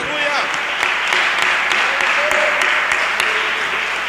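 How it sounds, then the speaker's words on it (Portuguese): A church congregation at a men's service claps together in a dense, steady round of applause, individual sharp claps standing out while voices carry over the top. "Vamos dar uma salva de palmas para o Senhor Jesus?"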